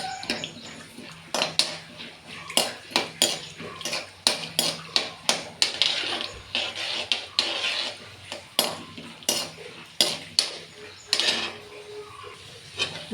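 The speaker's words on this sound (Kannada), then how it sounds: "ಈಗ ಇದು ಸ್ವಲ್ಪ ಬ್ರೌನ್ ಕಲರ್ ಬರೋವರೆಗೂ ಚೆನ್ನಾಗಿ ಫ್ರೈ ಮಾಡ್ಕೋಬೇಕು." Peanuts and chana dal fried in a pan while a spoon stirs and scrapes the metal in a steady, rhythmic clatter, close and fairly loud, with soft rattling of the pieces.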